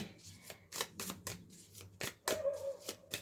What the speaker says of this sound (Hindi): कार्ड्स गिर रहे हैं